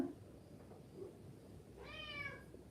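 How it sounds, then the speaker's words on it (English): A house cat lets out a loud, drawn-out meow near the end, rising and falling over steady low room noise, after a stretch of quiet background. "It's my screaming cat."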